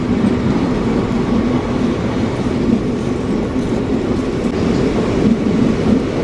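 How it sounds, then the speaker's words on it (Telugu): A train pulls out of Chirala station, heard from onboard as a loud continuous rumble with steady clickety-clack of the wheels over the rails and a faint squeal now and then. "మనమైతే చీరాల నుంచి అయితే బయలుదేరిపోయినాము"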